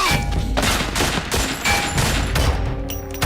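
Dense, sustained gunfire from the stealth action game Metal Gear Solid 3, rapid loud shots and bursts rolling continuously with booming low end, sounding like a close, heavy firefight with no talk over it.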